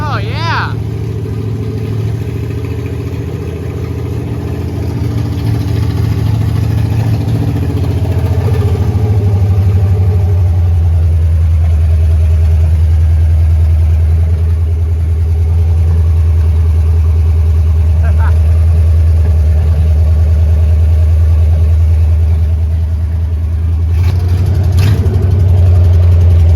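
A Crosley Hot Rod engine with a loose fan belt running and idling after 20 years, a loud steady close-up rumble that deepens and settles into an even idle for the whole stretch.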